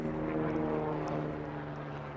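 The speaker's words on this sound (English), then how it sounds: "waiting for a plane to go overhead" A propeller airplane passes overhead, its steady droning engine hum with distinct tonal bands holding at moderate loudness across the whole stretch.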